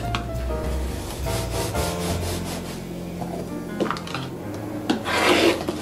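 Fabric and batting edges of a quilt block are trimmed against a metal-edged trimmer, giving a continuous close rubbing, rasping scrape with a few sharper scuffs near the end.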